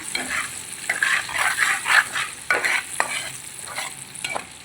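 Egg and potato curry seasoned with salt and turmeric sizzles steadily in a pan while a utensil scrapes and stirs through it in uneven bursts, close and fairly loud, with no talking.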